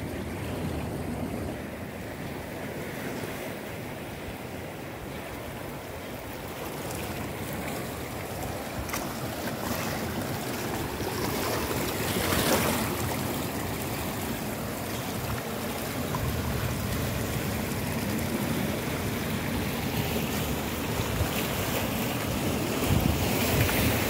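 Ocean surf rolls steadily at Tub Afu beach, a continuous wash of waves mixed with heavy wind buffeting the microphone, with no voices.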